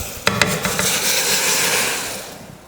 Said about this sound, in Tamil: இப்போ இதில் வறுத்த ரவையை இதில் சேர்த்துடலாம்